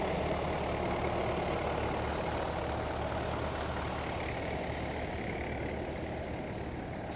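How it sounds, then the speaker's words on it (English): Massey 65 vintage tractor pulling a two-furrow plough at a ploughing match, its engine a steady, continuous low diesel rumble throughout, with no voices. "he's in a Massey 65, the 2 Furrow plough on the back"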